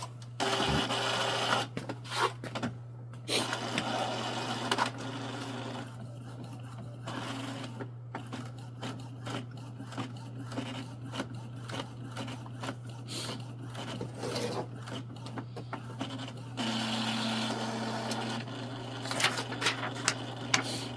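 Epson EcoTank ET-3700 inkjet printer running a test page, its print head shuttling back and forth in repeated mechanical whirs and clicks over a constant low hum, close and moderately quiet, with no talking.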